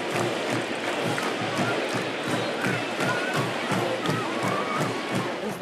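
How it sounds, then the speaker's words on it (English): A large football stadium crowd roars continuously, a dense, loud wash of cheering voices sustained without a break. "As the crowd roars, your heart is pounding out of your chest."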